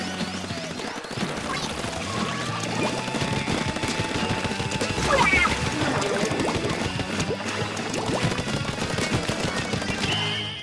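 Rapid ink-gun fire in a Splatoon match, dense overlapping shots and splatter bursts over game music and effects, steady and loud throughout.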